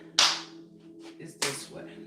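Two sharp, close hand claps about a second apart during a guided energy session, each a crisp single smack, over a low steady hum with faint voice sounds between them.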